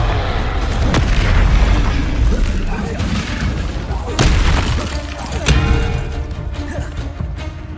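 Confringo spell blasts in the video game Hogwarts Legacy, loud booming explosive bursts with deep rumbling impacts and crackling debris, several sharp hits over a dense roar, with some talking mixed in.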